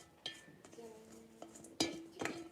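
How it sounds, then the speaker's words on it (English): Wet ingredients stirred into dry ingredients for vegan gluten-free banana chocolate chip muffins, with a utensil clinking and scraping against the bowl nearby, a few sharper knocks, and faint talk in the background. "Now, we're going to add the wet ingredients into the dry ingredients."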